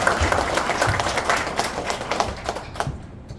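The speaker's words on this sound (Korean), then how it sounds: "박수 보내주십시오." Applause from an audience welcoming cultural organization leaders at a mayoral candidate's meeting in an arts hall in Daejeon, dense steady clapping that fades out near the end.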